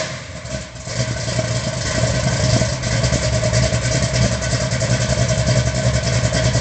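A Chevrolet Corvette C8 V8 idles with a lumpy, loping rumble, steady and fairly loud throughout with a slight rise in level early on, no talk over it.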